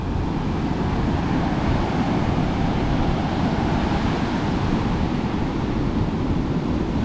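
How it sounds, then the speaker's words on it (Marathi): Large sea waves break on a Konkan beach on the Indian coast, a continuous loud, broadband roar of surf that swells steadily, mixed with wind buffeting the microphone and no speech. "समुद्राच्या काठी बसलो एक पंधरा वीस मिनटं शांत निवांत अशा मोठमोठ्या लाटा येतात अंगावर आल्यासारख्या"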